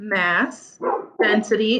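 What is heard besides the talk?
dog barking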